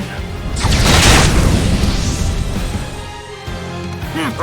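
A fire attack spell erupting in Octopath Traveler II, a loud whooshing burst of flame that swells into a roaring blaze, then trails off into crackling before a final small flare.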